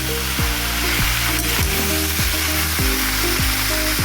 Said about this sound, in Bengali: আবারও এটা বেশ কিছুক্ষণ ভাজবো আমি ভালো করে ভাজতে ভাজতে আমার সবজিগুলো সিদ্ধ হয়ে যাবে